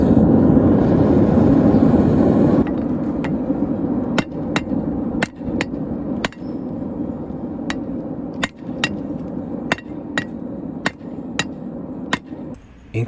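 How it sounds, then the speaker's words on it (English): A 3-pound hammer and a treadle hammer forge a steel axe head: a dull rumble of forge and machinery gives way to sharp, ringing strikes about every half second to second, some in quick pairs, close and clear. "combined with using my 3-pound hammer and my treadle hammer, I was able to move steel much quicker."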